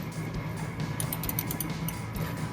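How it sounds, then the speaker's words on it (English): A hand ratchet turns a 16 mm socket on a corroded rear bumper bolt of a 1999-2006 Chevrolet Silverado 1500, giving quick, close clicking over a steady low hum. "with the 16 millimeter socket, I'm going to remove this bolt here on the driver's side"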